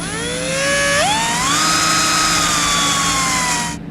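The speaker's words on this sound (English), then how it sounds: "we're just going to drill this big enough so that 3/8 bolt can go through it" A power drill reams out a bolt hole in a base plate bracket for a 2009 Subaru Forester, a loud close whine that climbs in pitch, steadies while cutting, then cuts off abruptly.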